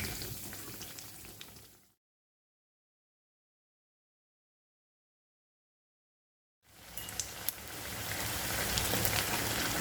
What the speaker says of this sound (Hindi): तो बस यहाँ पर कबाब को हमने गोल्डन ब्राउन होने तक फ्राई करना है।